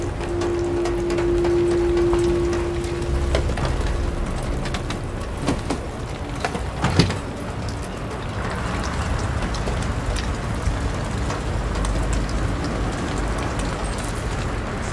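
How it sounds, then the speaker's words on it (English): Rain falling in the video game Detroit: Become Human, a continuous dense hiss of rainfall with scattered drips and spatters, steady and fairly loud throughout with a faint tonal hum early on. "It's still raining."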